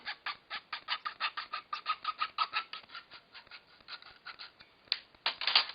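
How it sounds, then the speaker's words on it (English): A hand saw cuts through a small tube to make a fire starter, giving a quick, rhythmic series of close, scratchy rasping strokes that grow louder near the end. No one speaks. "So you take a saw, you take it, and you cut it all the way through"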